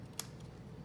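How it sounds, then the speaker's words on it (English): A single quick snip of scissors cutting paper while crafting a card and gift-card holder, one short crisp click close by in an otherwise quiet room. "and then again just do my little snipping"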